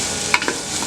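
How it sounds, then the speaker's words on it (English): A spoon stirs a pot of chowder with potato, thyme and bay leaf, giving two brief scraping knocks over a steady soft hiss of the cooking pot. "And we're going to give that a stir."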